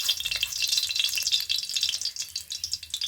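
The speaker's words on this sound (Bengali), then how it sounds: "এইভাবে বড়াগুলো প্রথমে তৈরি করে নেওয়া হবে, ভেজে নেওয়া হবে।" Red lentil fritters fry in a shallow layer of oil, giving a bright, crackling sizzle that pulses unevenly and stays close, with no talking.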